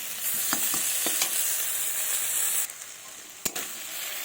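Spice masala for an okra and duck egg curry sizzles steadily in a hot pan, with a few sharp scraping clicks from stirring, and the frying drops briefly toward the end.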